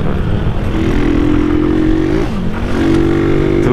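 Yamaha MT-09 motorcycle engine accelerating hard, a loud close rising drone that dips briefly between gears then climbs again, steady and continuous with no talking.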